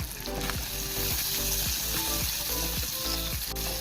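Onion, green chilli and curry leaves fry in coconut oil, a steady dense sizzle with crackling and regular scraping stirs throughout, close and fairly loud with no talking.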